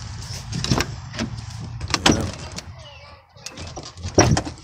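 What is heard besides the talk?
old GM pickup truck door being opened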